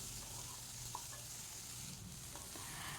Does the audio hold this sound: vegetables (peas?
yes